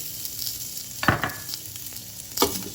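Ginger slices sauté in oil in a heated pot with a continuous close sizzle, broken by two louder bursts of stirring or scraping against the pot.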